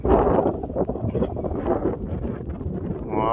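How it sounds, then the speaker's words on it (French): Steady wind buffets the microphone at an RC model jet airfield, a loud, close, rumbling rush that keeps going throughout and swells near the end, with no voices. "Voilà, il y a un beau petit vent qui va nous permettre un bel atterrissage."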